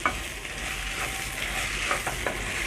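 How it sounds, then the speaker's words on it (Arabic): Rice sizzles and is stirred in a hot pot with spices, onion and carrot before water goes in, a steady close frying hiss with a few scraping strokes of a spoon, no voices. "الرز يتغلف بالتوابل والبهارات اللي احنا حطيناها مع البصل والجزر. دي زي تشويحة كده صغيرة قبل ما نحط المية."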